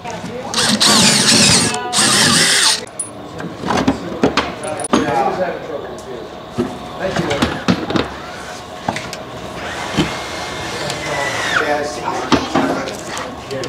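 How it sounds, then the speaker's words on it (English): A power drill drills bearing holes while building a hop harvesting machine, whirring in short loud bursts, mixed with knocks and clatter as someone talks nearby. "I do this so I can drill the holes in this for the bearings"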